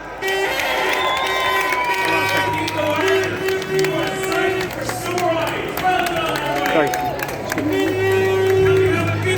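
A crowd at a pro-life rally outside the Customs House in Dublin cheers, claps and shouts loudly and continuously, with whistles and horn-like tones cutting through the close, dense noise.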